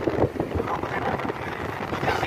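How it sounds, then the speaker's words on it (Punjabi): Outdoor wind buffets the microphone on a roadside walk at night in Punjab, a rough, gusting rumble rising and falling close to the mic. "ਇੱਕ ਸੋਹਣੀ ਹਵਾ ਚੱਲਦੀ ਪਈ ਹੈ"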